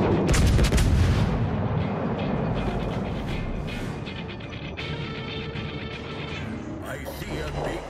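Naval artillery fire in World of Warships, heavy gun booms and rumbling blasts in a dense, continuous barrage, loud throughout with crashing impacts layered over a low roar.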